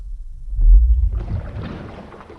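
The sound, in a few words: slowed-down air bubble recording with sub bass rumble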